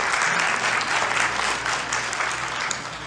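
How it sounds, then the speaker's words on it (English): A room of people at a public conversation with a mayor breaks into dense, sustained applause, loud and close, fading slightly toward the end without any talking. "That deserves another round of applause"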